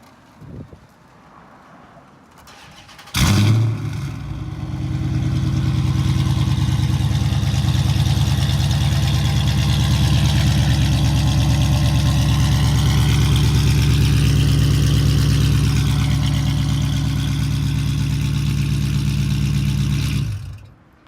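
A warmed-up 2013 Dodge Charger R/T V8 with Kooks longtube headers cranks and fires with a loud bark after a few quiet seconds. It then settles into a deep, steady, loud idle heard close up for about seventeen seconds before cutting off.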